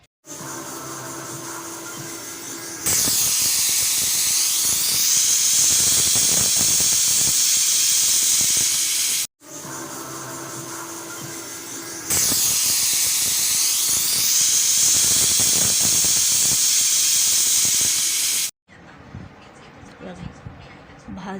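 A pressure cooker of brinjal vents steam in loud sustained hissing whistles, two long blasts each building from a softer hiss, then cutting off into quieter background sound.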